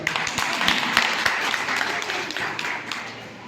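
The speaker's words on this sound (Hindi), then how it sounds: "एक बार जोरदार ताली बजाइए" A crowd at an RCM business program in India claps loudly in a brisk, uneven burst that gradually thins and fades.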